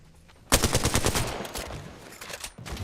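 Rapid automatic gunfire in an Apex-style battle royale game, a dense sustained burst starting abruptly after a moment of quiet, loud and close, with a brief pause before firing resumes.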